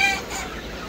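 Broiler chickens about fifty days old cluck and call briefly on a poultry farm, a short burst of fowl sounds heard close by without any talk.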